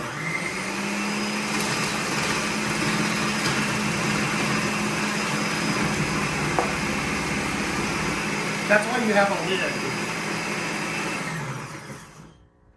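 Ninja 1000-watt professional food processor chopping whole celery, a loud, steady whirring motor roar running for about twelve seconds before winding down, with a person talking briefly over it.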